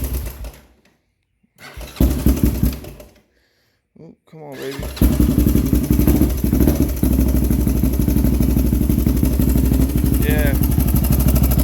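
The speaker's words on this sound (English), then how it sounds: "You can hear those valves. Those valves are chattering pretty good." A Honda 400ex ATV engine running rough: the engine cuts out and restarts, then idles loudly and unevenly with a rapid mechanical valve chatter close by, while someone speaks briefly.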